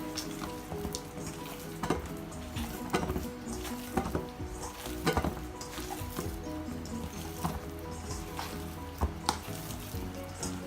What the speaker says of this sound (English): we're going to mush it into the rest of the sausage mince